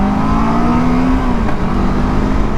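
A Yamaha or Kawasaki demo motorcycle engine revs loudly and steadily up close, with a brief hitch as the clutch is jumped, the tone holding high and smooth throughout.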